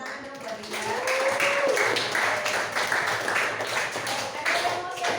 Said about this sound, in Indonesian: tepuk tangan dong buat Dinda